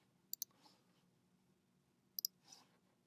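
Two quick double mouse clicks, sharp and close, about two seconds apart, pressing play in the Soundtrap music app, with near silence between them.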